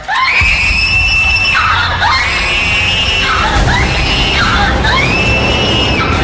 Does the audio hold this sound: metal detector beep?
no